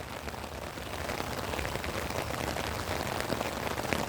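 Steady rain falls outdoors, a dense, even hiss of drops spattering on surfaces that holds constant throughout without any voices.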